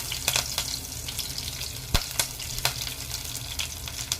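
Cinnamon and curry leaves sizzling in hot oil in a pan, a steady close crackle with a few sharp pops and spatters, no voices.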